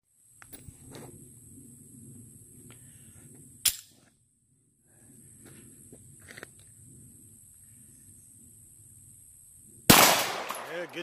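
A single gunshot at an outdoor shooting range, one round fired: a sharp, loud crack near the end after quieter stretches of handling noise and a brief earlier click.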